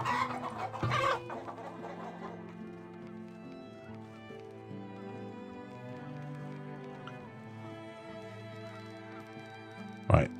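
Chickens clucking in the video game Farthest Frontier, soft scattered clucks and a brief louder burst, set against steady background game music.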